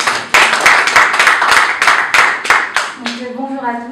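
Audience applause at a press conference in Kinshasa, dense rhythmic clapping with sharp bursts from a crowd, loud and close, fading as a voice starts speaking near the end.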